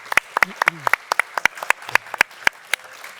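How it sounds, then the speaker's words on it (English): A scattering of people applaud after a convention panel discussion, quick separate claps in an uneven rhythm with a few faint voices underneath. "So thanks to the panel, a last applause"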